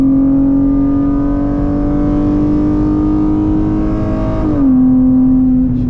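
A car pulls hard on a straightaway, its loud engine note climbing steadily through the gears for about five seconds, then dropping sharply at a shift before carrying on, with no talking.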